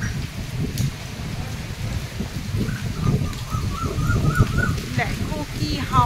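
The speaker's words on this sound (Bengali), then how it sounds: "ঝড় উঠে গেছে পুরো" A storm lashes the Dubrajpur Sri Sri Ramakrishna Ashram in Birbhum with gusting wind and rain, a rumbling roar under a person talking, with birds chirping intermittently in the background.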